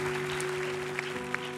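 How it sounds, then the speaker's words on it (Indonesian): Audience clapping at an evening charity event, a steady wash of applause at moderate level with a couple of sharp claps standing out, no talk over it. "tepuk tangan dong untuk Umi Elvi Sukaisi"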